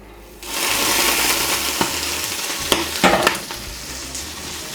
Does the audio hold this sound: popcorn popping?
yes